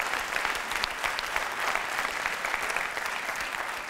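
Audience applause at a live comedy and magic stage show, a steady patter of clapping from a modest crowd, evenly sustained for several seconds.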